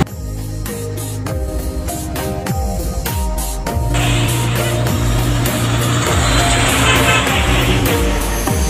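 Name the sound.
heavy trucks passing beside a bridge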